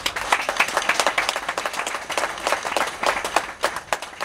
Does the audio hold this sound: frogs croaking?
no